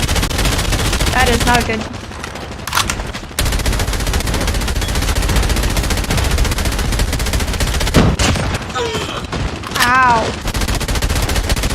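Video game gunfire at a LAN event watch party: rapid automatic bursts and single shots fire almost continuously, loud and close, with a person briefly speaking over them.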